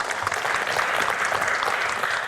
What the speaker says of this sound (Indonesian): Biar tambah semangat kita tepuk tangan lagi Pak.